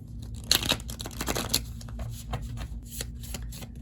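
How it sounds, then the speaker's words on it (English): A deck of tarot cards riffled and shuffled up close, a quick burst of crisp flutters followed by lighter slides and taps. "Let me just give it a quick shuffle."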